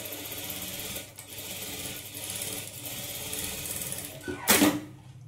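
Sewing machine running steadily as it stitches a high-neck blouse's lining onto the main fabric, a close, continuous mechanical whir that ends with a short louder clatter.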